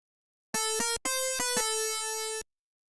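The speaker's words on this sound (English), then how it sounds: "Yamaha DX7 presets." Bright 80s-style FM synth tones from Sytrus playing Yamaha DX7-style presets: a short run of bell-like stabbed notes followed by a sustained chiming note, rich in clean harmonics, alone in silence.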